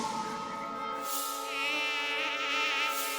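Steady high-pitched mosquito whine in a Hindi comedy cartoon scene, continuous and close, rising and shimmering slightly in pitch over a few seconds with nothing else competing.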